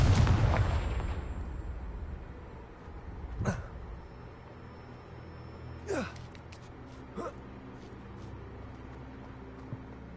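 Confringo fire spell blasts in Hogwarts Legacy, a loud burst at the start with a crackling, booming tail, then a few fainter spell impacts spaced a couple of seconds apart against a low game-ambience bed.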